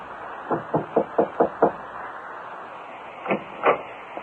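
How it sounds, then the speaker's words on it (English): A knock on a corridor door sounds in a 1940s radio mystery drama: a run of six quick even raps, then two more after a pause, close and clear. "Like an automaton, he moved to the door at the end of the corridor and knocked."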